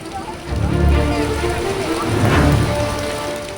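Heavy rain pours steadily during flooding in Gujarat's Junagadh and Porbandar area, a dense, close wash of drops with low rumbling swells that rise and fall throughout.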